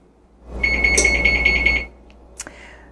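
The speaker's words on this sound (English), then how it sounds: "there's the magic beep that tells us our oven is at 450 degrees." A single sustained electronic oven preheat beep lasts about a second, followed by a short faint chirp, in an otherwise quiet room.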